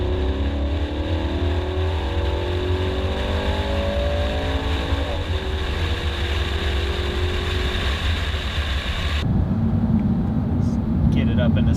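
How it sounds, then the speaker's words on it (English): An Audi R8 accelerates hard through the gears, its engine tone climbing steadily under a loud, constant exhaust roar before dropping into a lower, rougher drone after a shift. "So the exhaust definitely roars a little more when you get on it."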